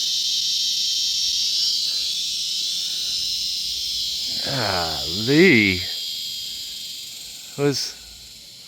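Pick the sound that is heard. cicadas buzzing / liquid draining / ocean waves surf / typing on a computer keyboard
cicadas buzzing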